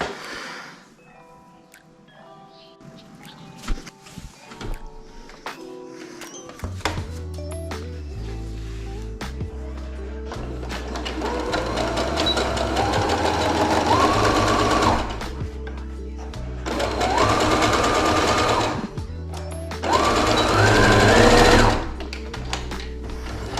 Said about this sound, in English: then we're going to sew each of those corners across, and that is our last box corner